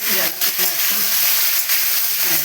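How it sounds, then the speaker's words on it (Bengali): Mixed vegetables for Birbhum-style niramish tok fry in a pan with a bright, continuous sizzle and hiss, broken by a few soft stirring scrapes, close and fairly loud throughout. "এই যে একটু ভাজা ভাজা হচ্ছে এটা বেশ করে ভেজে নিতে হবে"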